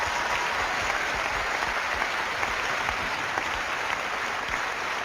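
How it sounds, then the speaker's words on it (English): A studio audience at a live paranormal television broadcast applauds steadily, a dense wash of many hands clapping at constant loudness throughout, with no talking over it. "Give him a round of applause."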